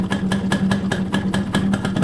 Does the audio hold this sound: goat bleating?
no